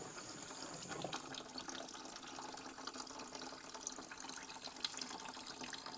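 Liquid being drawn out of a barrel of acidic water used in cocaine processing, a faint, steady trickling and splashing with small drips, close and quiet, with no talk.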